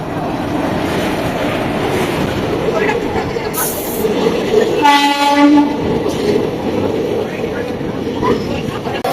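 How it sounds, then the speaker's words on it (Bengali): The Rani Shiromoni Express rolls into a station with a loud steady rumble of wagons, a brief high horn blast and a short squealing tone midway, close and continuous throughout. "এখন তো ফাইনালি আমাদের ট্রেন চলে এসেছে"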